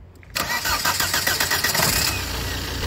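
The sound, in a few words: car engine starting and idling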